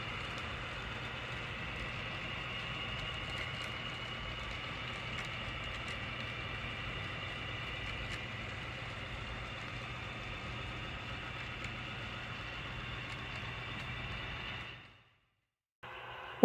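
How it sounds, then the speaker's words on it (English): Okanagan Valley freight train number 93 hauling lumber loads into Penticton Yard, a faint steady engine drone with a soft rail hum that cuts out near the end. "Okanagan Valley train number 93 is just about to arrive in Penticton Yard"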